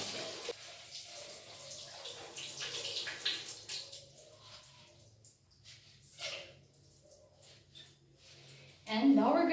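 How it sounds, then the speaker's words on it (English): Water runs from a faucet during handwashing, a soft hissing flow that tapers off as the tap is turned off, with faint background talk and a louder clatter at the very end. "And now I'm gonna turn off the faucet."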